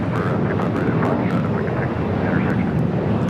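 Airliner at Los Angeles International Airport near runway 25 left, a loud steady roaring engine wash that stays constant and close throughout, with voices talking faintly underneath.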